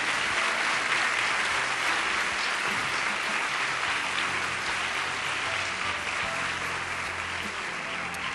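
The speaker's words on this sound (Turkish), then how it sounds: "Bence alkışlar kesilmesin gelene kadar." Audience applauding at a film critics association awards ceremony as a documentary director comes up for a prize, steady sustained clapping from many hands, even and continuous throughout.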